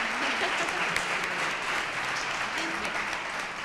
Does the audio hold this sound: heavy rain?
no